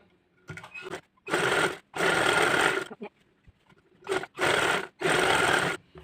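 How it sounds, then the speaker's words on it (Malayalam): A domestic sewing machine stitches a one-inch sleeve hem on a top made from nightie fabric, running in several loud, close bursts of steady whirring with brief pauses and small handling clicks between them. "ഒരു ഇഞ്ച് ഇതില് നമുക്ക് അടിച്ചു കൊടുക്കാം"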